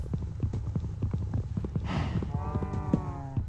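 Cows in a Minecraft-style video game, with rapid clip-clop footstep clicks throughout and one drawn-out moo partway through, near and moderately loud.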